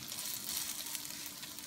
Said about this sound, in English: we're gonna fry this until it becomes crispy